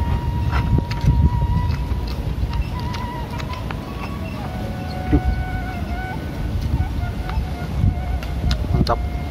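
Outdoor wind buffets a microphone with a steady low rumble and roar, while scattered clinks and faint tones pass in the background.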